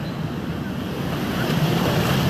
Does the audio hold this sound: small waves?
yes